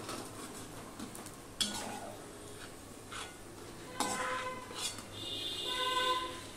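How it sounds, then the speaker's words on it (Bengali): Fried onions are scooped out of hot oil in a pan and dropped into a bowl, with metal utensils clinking and scraping against cookware in scattered bursts over a faint sizzle. "এবার আমি একটা পাত্রে তুলে নিচ্ছি, তেলটা ঝরিয়ে আমি তুলে নিচ্ছি।"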